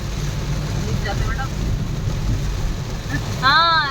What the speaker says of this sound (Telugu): రైల్వే స్టేషన్కి వెళ్తుంటే దారిలోనే ఫుల్ వర్షం స్టార్ట్ అయింది